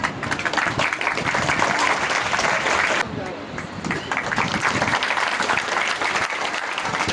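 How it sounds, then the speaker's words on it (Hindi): A crowd at the foundation-stone ceremony for the Maheshmara railway halt claps for the arriving chief guest, sustained dense applause with a brief dip midway, while a voice talks over it through a loudspeaker. "तालियां बजती रही।"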